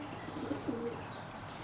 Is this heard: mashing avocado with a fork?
no